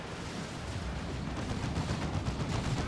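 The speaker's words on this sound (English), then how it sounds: "Side Cannon doing its thing to the Dreadnought." Rumbling cannon fire and battle noise from the Dawn of War 2: Retribution strategy game as a side cannon pounds a Dreadnought, a dense continuous low roar of repeated blasts at moderate level.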